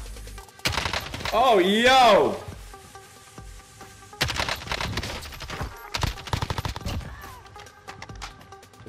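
Video-game gunfire in Call of Duty: Warzone arrives in loud, dense bursts of rapid shots, interrupted by short pauses, with a player's excited voice talking over the first burst.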